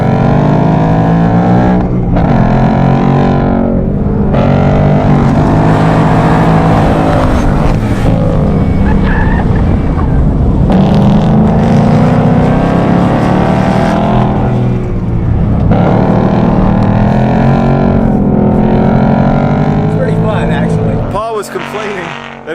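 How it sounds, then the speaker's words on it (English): A Ford Mustang Bullitt with a 480-horsepower V8 roars under hard driving, revs rising and falling through gear changes, loud and close from inside, with a voice talking over it at times. "Driving the Bullitt Mustang with 480 horsepower."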